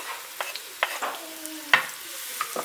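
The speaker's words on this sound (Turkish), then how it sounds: "Önce soğanları kavuruyorum. Soğanlar biraz kavrulsun." Onions sizzle quietly in a pan while a utensil stirs and scrapes at intervals, with a few sharper clicks against the pan.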